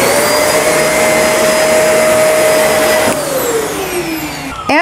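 A Shark NV352 upright vacuum cleaner runs loud and steady while sucking flour out of carpet, its whine holding level before dropping in pitch near the end as the motor load changes.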